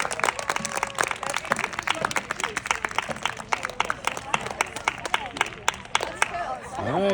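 An audience at a poker chip recognition ceremony claps steadily with scattered cheers and crowd chatter, and voices talk over the applause throughout.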